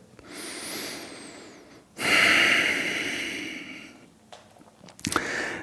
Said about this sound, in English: let's take a couple of breaths here